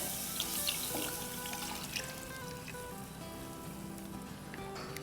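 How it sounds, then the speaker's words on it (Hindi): Room-temperature milk being poured into a pan of toasted mixture for bread pudding while stirring, a steady liquid pour and sizzle, fairly faint and close. "इसमें अब हम डालेंगे 2 कप रूम टेम्परेचर दूध, हिलाते जाएंगे और डाल देंगे"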